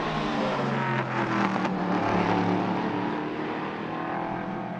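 An LMP3 prototype race car, number 36, at the Nogaro circuit, a loud, continuous engine roar at high revs sweeping past close by, with no pause.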